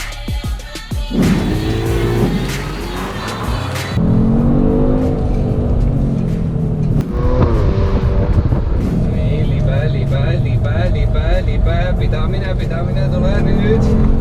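A Kia Stinger GT sports car drives hard on a race track at Rapla, its engine droning loudly and continuously with rising and falling revs, while someone talks over it.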